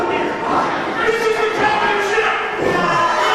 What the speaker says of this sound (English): the women are all cheering for him here